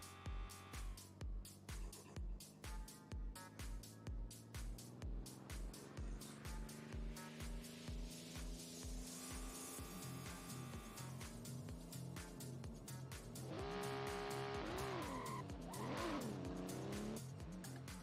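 A Nissan S15 drift car revs hard in a rhythmic bouncing of the limiter, then its tires squeal in a long, loud slide, with engine pitch rising and falling through the drift.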